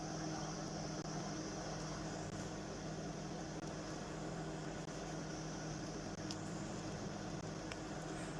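A stainless steel microwave oven with a broken display hums steadily and continuously, a low even drone with faint high ticks, running alone without any voices.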